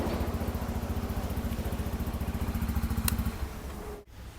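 A fuel-injected Bajaj Dominar motorcycle engine idles close by with a deep, bassy, steady pulsing throb, then cuts out abruptly near the end.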